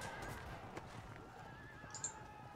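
Horses in the Field of Glory II medieval battle game, faint whinnies and neighs over a soft clip-clop of hooves, quiet and steady with no voices.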